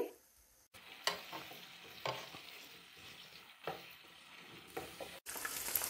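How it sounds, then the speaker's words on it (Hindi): Half a kilo of chicken legs with large deep cuts frying in oil until golden, a close sizzle broken by scraping stirs and spatula clinks, with brief cut-outs between bursts. "चिकन को हम गोल्डन कलर आने तक फ्राई करेंगे"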